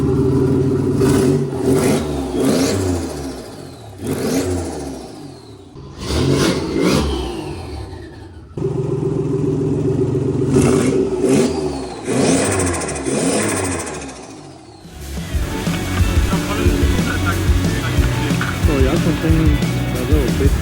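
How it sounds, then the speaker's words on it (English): A Nissan 300ZX Z31's turbocharged engine revs repeatedly in loud bursts, each rise followed by a dropping whoosh, ending in a sustained roaring hiss. "Let's get some turbo noises in."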